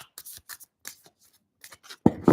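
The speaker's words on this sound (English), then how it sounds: "As I'm shuffling them, I'm like," Cards from a new tarot deck being shuffled by hand indoors, a few soft, brief riffling bursts spaced apart, ending in a louder, denser close flutter.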